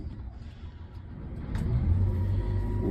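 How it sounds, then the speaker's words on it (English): The engine of a 2022 Case IH 9250 tractor fires up and settles into a low, steady rumble that grows louder partway through, heard close by. "We'll fire it up and drive around a little."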